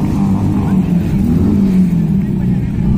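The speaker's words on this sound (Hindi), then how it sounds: "सारी बाइकें यहाँ पे गोल राउंड राउंड घूम रही है" Many motorcycles circle round and round at a large bike event of more than 2000 riders, their engines a continuous loud rumble under someone talking.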